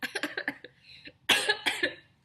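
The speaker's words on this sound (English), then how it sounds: "I think I'm done coughing for the moment" A few quick syllables of talk, then two loud, harsh coughs close to the microphone.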